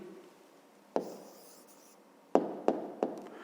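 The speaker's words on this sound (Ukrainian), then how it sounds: "Пишемо відповідь." A pen or pencil writes out an answer to a fifth-grade maths exercise by hand, giving a soft scratch followed by a few sharp taps and short strokes, close and quiet.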